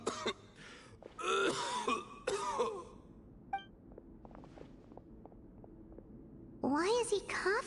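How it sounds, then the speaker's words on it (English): Coughing and throat clearing from a character in the Genshin Impact video game, heard in rough clusters between stretches of spoken dialogue, with soft game chimes and faint footsteps in between. "Why is he coughing so much?"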